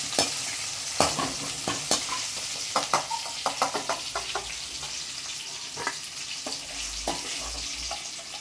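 Okra frying and softening in hot oil for a hotel-style tamarind curry, a steady broadband sizzle broken by repeated sharp stirring scrapes and clacks of a utensil against the pan, close and fairly loud with no talking.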